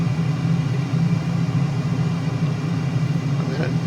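An F-35 jet engine in a flight simulator holds a steady, dense low rumble throughout, with only a faint rise in tone near the end.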